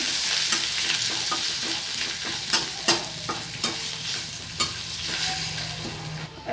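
A spatula stirs curry with ginger, garlic, curry leaves and turmeric in a pan, giving a constant sizzle with repeated sharp scraping knocks at irregular intervals, close and clear, no voices.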